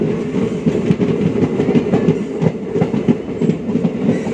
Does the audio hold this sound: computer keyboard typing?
no